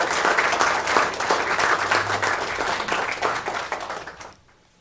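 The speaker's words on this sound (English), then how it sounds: "So, nice round of applause for everybody who works at Paris High School." An audience at a school board meeting claps for the staff of a high school, sustained crisp applause that fades out near the end.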